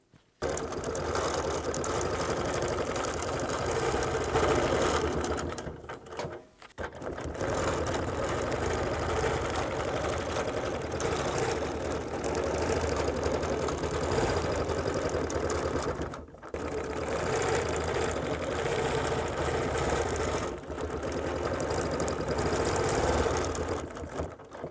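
Sewing machine free-motion quilting a looped flower design, a continuous fast mechanical whir and chatter, close and steady, briefly stopping twice before resuming.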